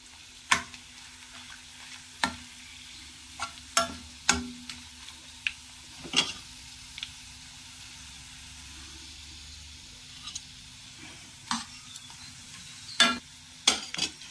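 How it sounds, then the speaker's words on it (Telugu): Pumpkin vadiyalu, sun-dried fritters, crackle in hot oil as a quiet background fry, punctuated by a dozen sharp scattered clicks and taps of a utensil against the pan. "గుమ్మడికాయ వడియాలు కొంచెం వేగాలి కదా."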